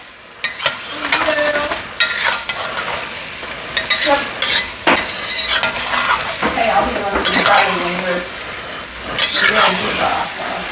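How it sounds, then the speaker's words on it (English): Chicken sizzles and fries loudly in a hot pot while utensils scrape and stir, with occasional clinks and faint voices in the background. "So I'm going to dump in my chicken"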